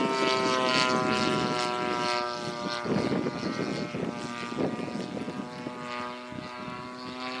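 A 30cc Yak 55M radio-controlled airplane engine roars at full throttle, a loud buzzing propeller drone with steady harmonics that wavers slightly as the plane moves.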